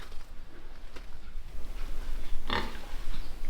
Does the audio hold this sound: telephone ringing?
no